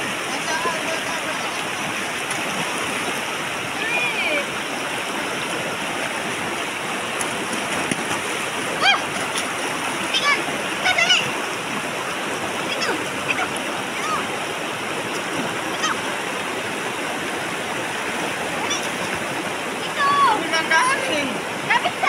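Water rushes and splashes continuously at close range, a steady churning flow with occasional louder splashes and faint voices underneath.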